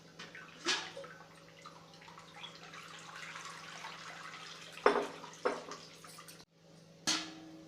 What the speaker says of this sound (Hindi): इस तरह से आपको पानी डालना है इसमें।